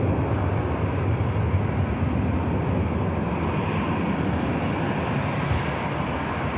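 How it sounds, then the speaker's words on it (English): EasyJet airliner bound for Mahon at Manchester Airport, a steady, loud jet engine roar holding evenly throughout with broadband rumble and no voices. "There goes the EasyJet to Mahon."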